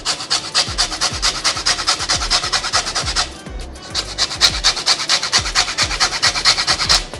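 A zester scrapes across a key lime in quick, rhythmic rasping strokes, close and steady, with a brief pause midway and no talking.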